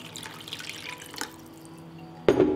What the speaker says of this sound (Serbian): Nalit ću sa vodom da prekrije sastojke.